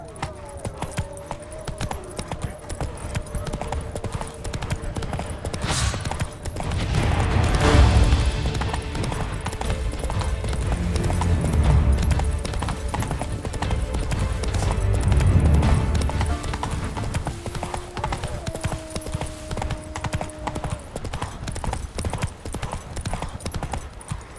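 A horse gallops in The Witcher 3 video game with steady, rhythmic clip-clop hoofbeats for the whole stretch, loud and close, while tack jangles and faint game ambience swells underneath.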